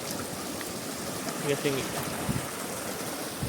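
A steady, soft rush of a river flowing some distance below a hillside campground in Bandung, a continuous watery hiss filling the background while a voice speaks briefly.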